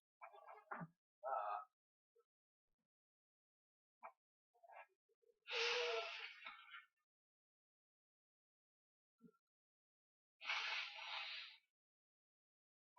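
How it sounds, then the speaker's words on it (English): Two loud, breathy nose blows spaced several seconds apart, with sniffs and faint shuffling between them; close and otherwise quiet. "Hold on, I gotta blow my nose."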